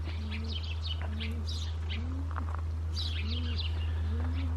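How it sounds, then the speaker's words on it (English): Soft, repeated low coos of pigeons at Carhenge roadside attraction in an even rhythm over a steady low hum, with sparrow-like chirps scattered around them. "You guys hear that cooing? The cooing of pigeons."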